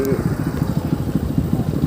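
Motorcycle engine running with a steady, throbbing low putter, close by, with a person talking over it.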